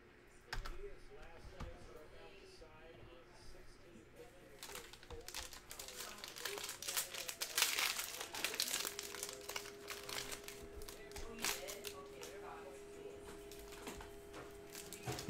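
A Panini Mosaic basketball card pack, 2019-20 NBA cello pack, being torn open, with crinkling wrapper plastic and rustling card handling, close and moderately loud, under low background chatter.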